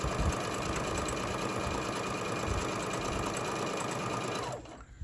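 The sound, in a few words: sewing machine stitching a Santa sack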